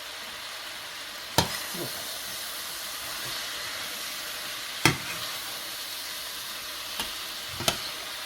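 Tofu and vegetables sizzle in a stir-fry pan with a steady broadband hiss, broken by a few sharp utensil knocks as they are stirred; a voice briefly speaks once.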